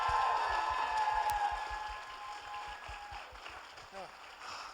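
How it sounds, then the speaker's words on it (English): Audience applause at an anime convention opening ceremony, a crowd clapping steadily and fairly loud at first, then slowly fading, with a voice talking over it near the end. "Big round of applause."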